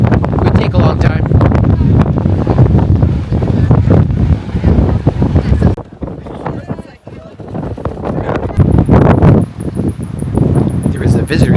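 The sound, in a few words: strong wind blowing at the coast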